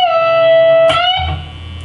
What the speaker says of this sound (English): he's going to hit 17 and bend it to 19 for a quick stop